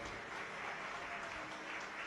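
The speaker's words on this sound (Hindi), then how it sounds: "एक बार आपके लिए भी जोरदार ताली बजाकर साधुवाद।" Audience applause at a Shiv Mahapuran katha religious discourse gathering, a steady faint wash of clapping lasting throughout.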